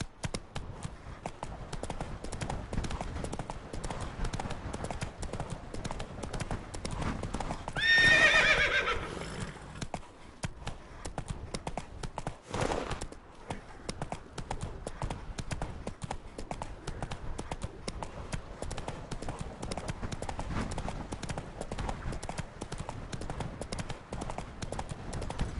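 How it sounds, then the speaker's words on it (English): Horse hooves clip-clop steadily through a gallop in The Witcher 3 on PS4, with a brief loud neigh partway through over continuous game ambience. "Whoa there, Roach."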